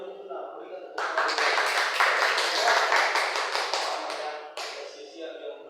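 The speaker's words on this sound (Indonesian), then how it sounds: "Berikan tepuk tangan." A classroom bursts into hand clapping for about four seconds. The applause is dense and close, with a voice speaking just before and after it.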